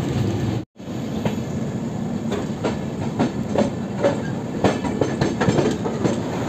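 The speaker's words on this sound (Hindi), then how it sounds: "9:45 टाइम है इसका और 9:44 पर ये अराइवल हो रहा है इसका ओडियार जंक्शन पे।" Superfast express train 22539 Mau–Anand Vihar pulling into Audihar Junction: a steady, close rumble with repeated clickety-clack of wheels over rail joints and a brief dropout near the start.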